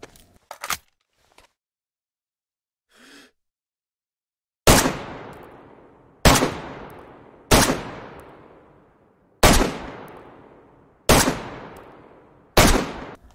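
Soviet 7.62x39mm assault rifle in the DayZ video game, firing six loud, sharp single shots spaced a second or two apart, each with a short decaying tail, after a couple of quieter clicks near the start.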